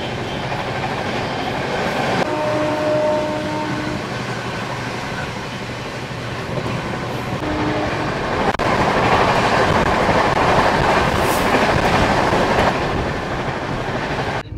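A passenger train runs steadily on rails, its loud continuous rumble carrying rhythmic clickety-clack from the wheels with brief tonal squeals, heard close from inside or beside the moving carriages with no talking.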